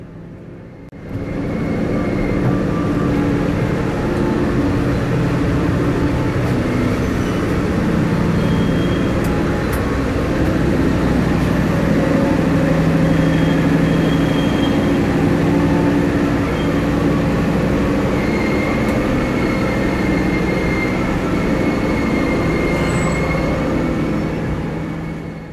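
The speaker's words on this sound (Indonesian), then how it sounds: "kereta lokal yang saya naiki tiba di stasiun Kiara Condong." Steady loud rumble and rattle of a local passenger train arriving at Kiaracondong station at night, with continuous wheel and carriage noise for about twenty-five seconds and no talking.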